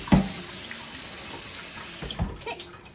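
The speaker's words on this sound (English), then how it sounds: "I'm going to rinse the noodles with some cool water first." Cool tap water running over cooked lasagna noodles in a kitchen sink, a steady hiss of flowing water with a few splashy bumps at the start and near the end.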